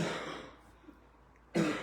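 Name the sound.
man coughing and choking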